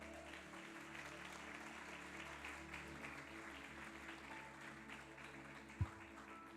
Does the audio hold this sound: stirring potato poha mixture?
no